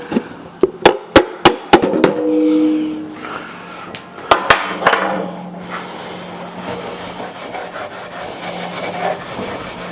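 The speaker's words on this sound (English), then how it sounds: "You're hammering on the dolly?" Sheet metal is hammered against a dolly at a metal-shaping meet, with a quick run of sharp, ringing strikes, a pause, then a second short burst over a faint workshop background.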